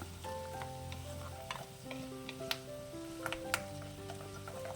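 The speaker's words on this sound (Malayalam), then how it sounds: "നല്ലവണ്ണം ഇളക്കി കൊടുക്കുക." Garlic, ginger and curry leaves fry in oil for a kanthari chilli pickle, a faint sizzle with light stirring taps and clicks under soft background music.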